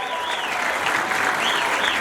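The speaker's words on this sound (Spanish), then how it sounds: "Fuerte el aplauso para Hilo." Steady applause from an outdoor serenade crowd celebrating a town's anniversary, dense continuous clapping at moderate distance with a faint voice underneath.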